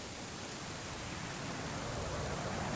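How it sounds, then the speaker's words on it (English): Rain falls in the video game The Legend of Zelda: Ocarina of Time as a faint, steady, even hiss that holds at one low level for the whole stretch, with no voices over it. "It's raining now."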